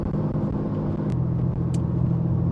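A Chevrolet Camaro with a custom exhaust driving, giving a steady deep engine rumble with a low droning exhaust tone, heard fairly close from inside or near the car for a couple of seconds.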